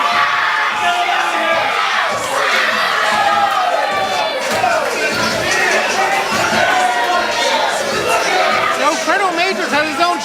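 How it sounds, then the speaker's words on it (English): A wrestling crowd at a tag-team match chants and cheers continuously, a dense wall of voices with shouted calls rising and falling throughout, loud and close with no pauses. "Fredo Majors has his own cheering section"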